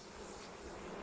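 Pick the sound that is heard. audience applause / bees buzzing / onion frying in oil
bees buzzing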